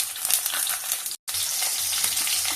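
Peeled small shallots hit hot oil in a pan with dried red chillies and fry with a loud, steady sizzle, broken by one brief pause. Close, with no talking.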